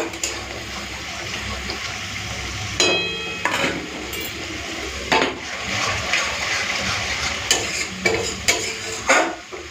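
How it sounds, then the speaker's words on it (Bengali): Spice paste sizzles and fries in a pan while a spoon scrapes and stirs it, with several louder clinks and scrapes of utensil against metal over a steady frying hiss, close by and with no talking. "হাতে সময় নিয়ে এরপরে মশলাটাকে ভালো করে কষে নেব, আর ঢাকা দিয়ে দিয়েই মশলাটাকে কষে নেব"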